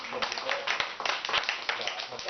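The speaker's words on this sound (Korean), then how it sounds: "우리 불쏘시개님 오셨는데 박수 한번 크게." Members of a small self-help group meeting, about thirteen people, clap together to welcome an arriving member: a dense, steady patter of hand claps lasting a couple of seconds at moderate volume.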